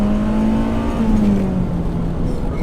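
A BMW M3 E30 Evo engine revs up hard under acceleration, a loud, close mechanical roar whose pitch climbs and then eases, with no one talking.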